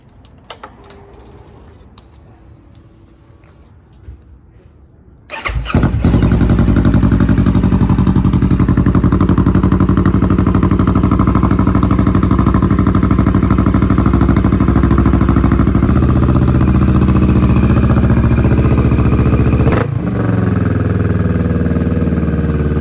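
A motorcycle engine fitted with a new aftermarket exhaust starts after a quiet stretch and idles loudly and steadily with a deep, throaty exhaust rumble, close by, a brief dip near the end.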